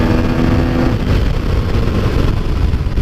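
A Yamaha MT-09 motorcycle accelerates under throttle, its engine roaring loud and close, with a thick, sustained drone that climbs and pulls hard.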